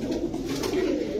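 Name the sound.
pigeons cooing, Pakistani Jhaggola breed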